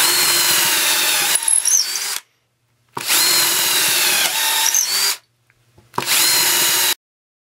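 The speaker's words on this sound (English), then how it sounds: "this new board that I've started with seems to be a little more sappy, so it's harder for the drill bit to turn through it" A Bosch DDS181-02 cordless drill bores holes through a sappy wooden board in three loud, close whining bursts, each about a second or two long and separated by short silences.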